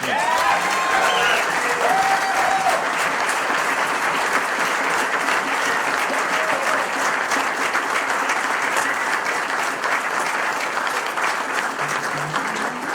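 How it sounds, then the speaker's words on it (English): Sustained applause from a large crowd fills the whole stretch, dense and steady clapping at a loud, even level with faint cheering early on. "Now, a nice round of applause for Bobby Osborne."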